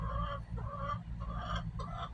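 A broody hen in a coop gives a steady run of close, moderately loud clucking calls in repeated bursts. Nothing else is heard.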